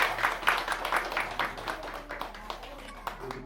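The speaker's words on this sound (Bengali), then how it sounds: "জোরে হাত তালি।" Audience clapping at a welfare program gift-giving ceremony, a crowd applauding with dense overlapping claps across the whole stretch, moderately loud, with some voices mixed in.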